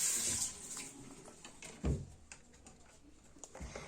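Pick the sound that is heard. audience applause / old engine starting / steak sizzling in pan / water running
water running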